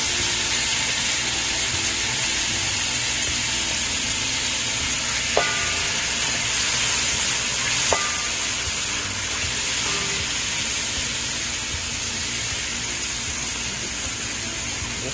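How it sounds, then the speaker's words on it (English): Shrimp sauteing in coconut oil produce a loud, continuous close-up sizzle that holds steady throughout, broken only by a couple of brief light clinks of a utensil against the pan. "I'm just gonna quickly saute these shrimp till it becomes"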